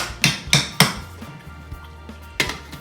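Metal lid set onto a pot of country fried corn cooking on a stove, giving four sharp clanks in a loose series, close and fairly loud, with quiet kitchen rumble between.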